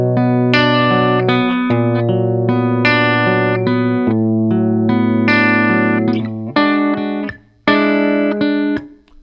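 Guitar playing the bridge of a song, a continuous run of picked chord shapes, close and clear and without any voices.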